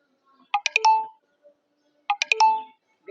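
A phone notification chime for an incoming Messenger message plays twice, each a short burst of quick bright tones ending in a held note, about a second and a half apart, clear with no talking.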